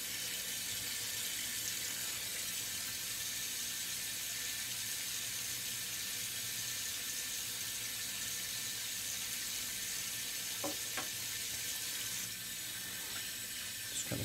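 Tap water runs steadily into a sink while a paint brush is rinsed, a constant soft hiss and splash, with a couple of brief clinks near the end.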